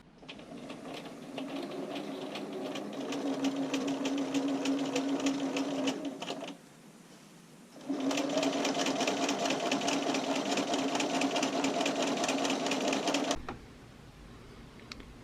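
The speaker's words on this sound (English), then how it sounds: "I'm going to do this again with a straight stitch." A sewing machine runs a straight stitch along a bra seam in two steady whirring bursts with rapid needle clatter, a short pause between them and quiet after.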